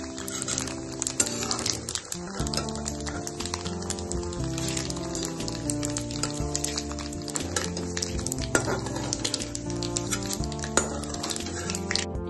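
Dried red chillies frying in a pan for a village-style Nellore pacchadi, a dense, continuous crackling sizzle with sharp pops and scraping stirs, close and steady throughout.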